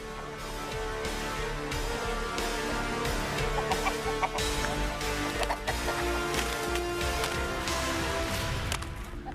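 Fighting roosters cluck and squawk close by at a traditional Tamil rooster fight, with busy overlapping calls, sharp bursts and scuffling noises over a steady outdoor background.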